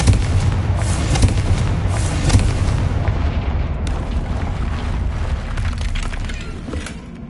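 A Confringo blasting curse from Hogwarts Legacy explodes in a loud, continuous booming roar with crackling debris, rumbling steadily throughout and fading slightly at the close.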